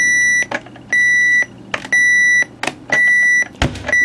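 A Sony Dream Machine ICF-CS750 clock radio alarm beeps loudly in repeated bursts, each a run of rapid electronic tones lasting about half a second, separated by brief gaps and faint clicks.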